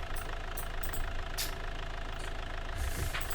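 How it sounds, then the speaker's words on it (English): Synthesized engine sound of a custom physics vehicle in a video game, a steady, low, continuous idle-like rumble, close and even, with no speech. "So I hope this answers your questions about how I made the engine sounds"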